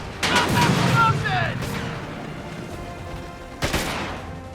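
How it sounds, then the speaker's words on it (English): Airstrikes in Company of Heroes 3 land as a muffled battlefield barrage, a couple of heavy booming impacts with rumbling tails and distant gunfire, mixed under a voice talking. "the airstrikes come in fast and furiously"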